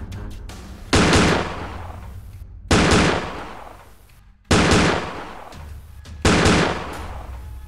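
Sound effects of gunfire play for an exchange of fire in the tabletop game Five Parsecs from Home: four loud, sharp bursts of rapid shots, each ringing out in a decaying tail before a short gap.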